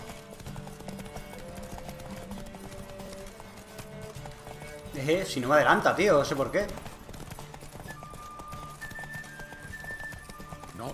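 In The Witcher 3, a horse's hooves clip-clop in a fast, even rhythm, swelling to a loud burst with a whinny in the middle before settling back. Someone talks casually over the steady gallop.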